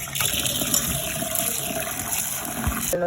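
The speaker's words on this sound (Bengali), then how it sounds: "এই ডালটি ধুয়ে নিচ্ছি" Running water rinses lentils for Bangladeshi dal bhuna in a home kitchen, a steady close gush from start to finish with no talk.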